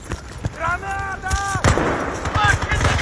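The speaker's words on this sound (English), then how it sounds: "Grenade!" Gunfire and a grenade explosion in the Bad Company 2 video game, several sharp shots and a heavier blast mixed with players talking and shouting over the battle.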